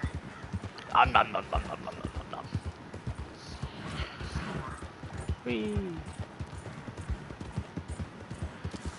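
Horse hooves clip-clopping steadily in Red Dead Redemption 2, a continuous rhythmic trot with a brief whinny, under a player's playful vocal sounds.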